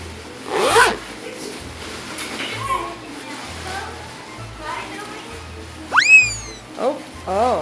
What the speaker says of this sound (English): Is there a zipper open?